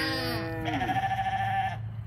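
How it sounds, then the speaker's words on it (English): A goat bleats on a farm during a kidding, one long wavering cry up close over a steady low hum in the barn. "this sweet goat staying with her is her mama"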